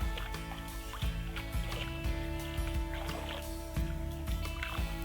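Kayak paddle strokes on a large lake north of Cartier, Ontario, on a bright early October day, with regular dips and gentle sloshing water over a steady background hum.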